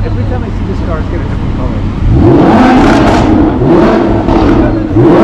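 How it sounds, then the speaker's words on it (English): A Lamborghini Huracán supercar in a Bangalore supercar gathering rolls up nearby, its engine revving and rising in pitch in repeated surges while someone talks over it. "Nishant rolling up in his newly wrapped Hurricane."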